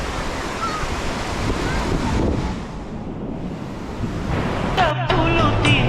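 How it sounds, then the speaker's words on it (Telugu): Ocean surf at Chirala beach washes in a constant roar mixed with buffeting wind on the microphone, with a brief clatter near the end. "నేను ఇప్పుడు బీచ్లో ఉన్నానండి. చిరాల బీచ్ అండి."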